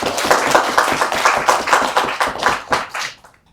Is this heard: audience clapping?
yes